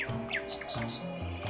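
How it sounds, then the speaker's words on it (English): Cartoon baby birds in a nest chirp rapidly, a string of bright, high tweets over a soft musical backdrop. "Even though the little birds were very hungry, chirping and chirping,"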